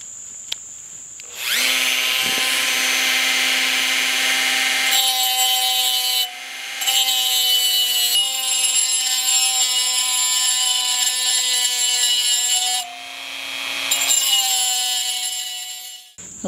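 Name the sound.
cutoff wheel cutting out chuck backplate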